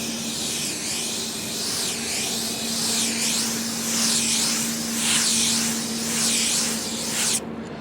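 Thick coat of spray paint hissing steadily from a close aerosol can, one continuous spray lasting about seven seconds with rhythmic swells as the can sweeps back and forth, then cutting off abruptly.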